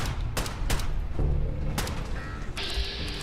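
Rifle shots in Fallout 4, several sharp separate cracks fired at a target among trees, close and clear over a low ambient background.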